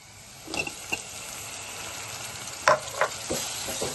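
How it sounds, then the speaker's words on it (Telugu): Tomato pieces and onions frying in oil in a pan, with a steady close sizzle and a few sharper stirring clinks and scrapes over it. "ఉల్లిపాయలు అయితే ఇలాగ వేగిన తర్వాత మనం కట్ చేసి పెట్టుకున్న టమాటా ముక్కలు వేసుకుందాం"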